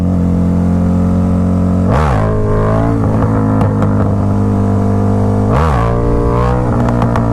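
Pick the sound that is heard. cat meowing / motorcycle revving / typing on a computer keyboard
motorcycle revving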